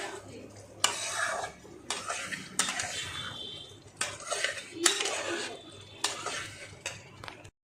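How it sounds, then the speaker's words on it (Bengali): Potatoes are stirred in a pan for egg biryani, a metal spoon scraping and clinking against the pan in repeated strokes over a soft background sizzle. "আলুটাকে কষাচ্ছি"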